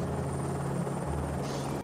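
Helicopter flying over a remote mountain summit, its steady rotor drone and buzzing engine loud and close, continuous throughout before cutting off abruptly at the end.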